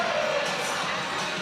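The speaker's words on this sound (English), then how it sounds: "It's so loud in here too. The crowd is so energetic." A loud, energetic crowd fills an arena at a college women's gymnastics quad meet, a dense wash of voices and cheering heard up close for a brief moment, with no clear speech.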